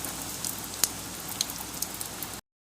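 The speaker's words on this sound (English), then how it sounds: "It's raining." Storm rain falls on a flower garden as a soft, steady hiss. Faint scattered drop ticks sit on top of the hiss.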